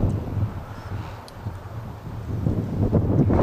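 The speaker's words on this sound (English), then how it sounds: "I'm hoping the wind dies down a little bit" Gusting wind buffets the microphone outdoors at a wind turbine test site, a rough low rumble that swells and eases and grows stronger toward the end, with no voices.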